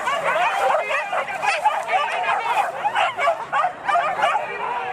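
Pack of hunting dogs at a wild boar hunt in West Sumatra, Indonesia, barking, yipping and whimpering continuously and close by, a dense overlapping chorus with crowd voices mixed in.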